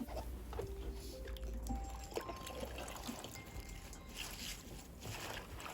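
Wild edible greens are rinsed by hand in a basin of water, with soft sloshing, trickling and light splashes at close range, fairly quiet throughout and without speech.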